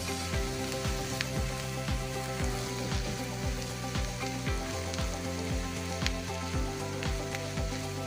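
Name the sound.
mashed potatoes frying and being mixed with spices in pan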